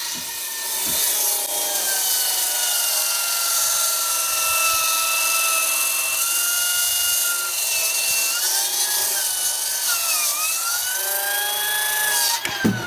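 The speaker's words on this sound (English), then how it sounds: "that's the new Makita 16 and 5/16 battery powered saw" A Makita 16-5/16 inch battery-powered beam saw cuts through wood on a floor-system build, a loud sustained whining bite that shifts pitch as the blade loads, ending with a brief clatter.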